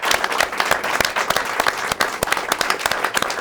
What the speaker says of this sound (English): How about a round of applause for Kevin?